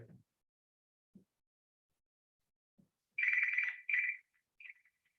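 A phone ringtone goes off during a virtual training session, playing two loud electronic chime bursts followed by a shorter fainter tone, with a few soft thumps beforehand in otherwise quiet surroundings.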